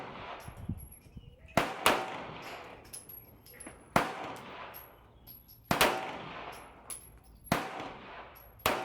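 Glock 17 Gen 5 pistol shots at an outdoor range, six sharp cracks spaced roughly a second or two apart, each with a short decaying echo.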